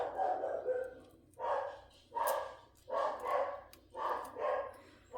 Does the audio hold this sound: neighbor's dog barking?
yes